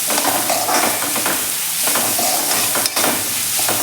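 Salt and black pepper are mixed into a hot manchow soup, with loud, steady stirring and a dense sizzle close by. One sharp clink comes near the end.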